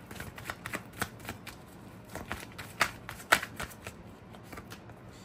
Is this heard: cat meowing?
no